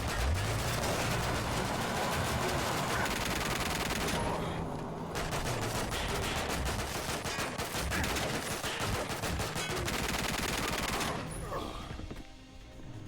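Sustained gunfire in 007: Quantum of Solace on Xbox 360, heavy automatic bursts and explosions nearly continuous for over ten seconds, loud and close, with brief lulls before fading out at the end.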